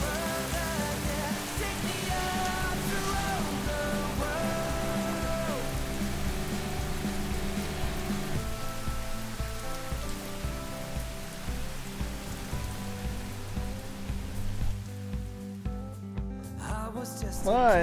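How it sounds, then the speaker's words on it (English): Heavy rain pouring down on a fishing boat on Puget Sound, a dense constant patter of drops over a low steady hum, with a faint voice near the end. "It starts pouring rain."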